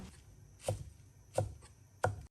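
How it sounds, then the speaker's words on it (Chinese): Three evenly spaced knife chops through a small bunch of Chinese chives on a cutting board, cutting them into long pieces; close, crisp thuds with quiet gaps between. "一小把韭菜清洗干净，切成长段"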